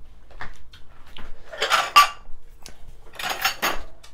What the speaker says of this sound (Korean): 앞접시 가져올게.